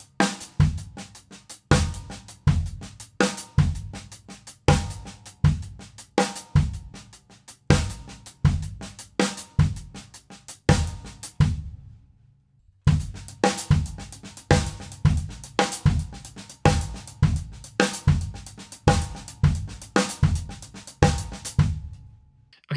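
Drum kit plays a linear groove with the bass drum on 1, the end of 2, and 4, tight bright hits in a steady repeating pattern, loud and close, pausing briefly before starting again with no voices.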